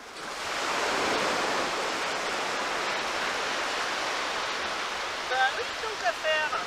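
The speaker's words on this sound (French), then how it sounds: "elle est déjà en train de laver dans sa poche en plastique les coquillages" Seashells washed by hand in a plastic bag of water at a campervan stop: a steady close wash of sloshing, rushing water that fades slightly, with a few faint voice-like tones near the end.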